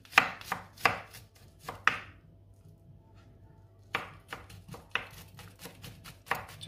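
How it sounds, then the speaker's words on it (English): A knife chops crushed garlic into fine pieces on a cutting board, a burst of quick, close, crisp knocks, a pause of about two seconds, then another run of sharp chops, with no talk. "And then we're gonna chop it to very small pieces."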